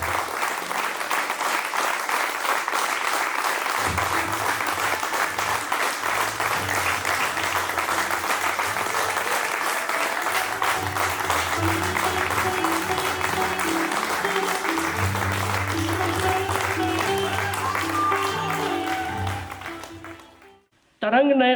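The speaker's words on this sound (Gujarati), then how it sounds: "જોરદાર તાળીઓથી સ્વાગત કરીએ." Sustained applause from an audience greets a swami arriving as special guest at a school function, loud and dense throughout, with music rising beneath it midway before it fades out near the end.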